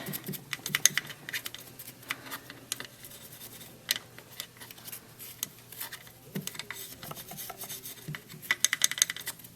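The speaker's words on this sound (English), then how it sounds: "So I'll go down here and try and see if I can scrub that." Scrubbing the inside of a 272 throttle body clean, heard as soft, irregular brushing and rubbing strokes at close range, with a few sharper scrapes and a brisk flurry near the end.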